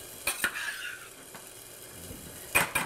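A spoon scrapes around a pot of blackberry sauce with pearl onions, a few short stirring strokes at the start and again at the end with quiet gaps between.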